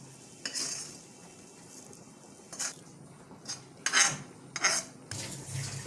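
Spoon clinking and scraping in a bowl while fried okra is stirred into salted yogurt for vendakka kichadi, in irregular close bursts with no talk.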